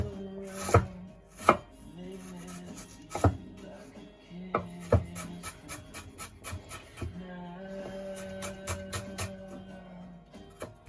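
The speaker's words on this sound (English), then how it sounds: "I've got half a red onion, which I am finely dicing" Half a red onion being finely diced with a knife on a board, sharp chopping bursts, some isolated and some in quick rapid runs, close and clear over a faint background hum.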